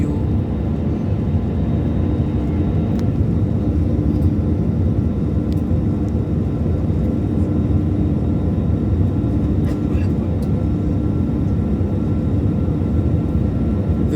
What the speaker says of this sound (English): we are flying at 281 knots at a heading of 88 degrees